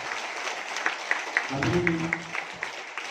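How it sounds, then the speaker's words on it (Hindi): Audience applause at an opening ceremony: scattered, sparse claps ring out across the room at moderate level, with a brief low voice murmuring partway through. "तालियां बजाते हैं।"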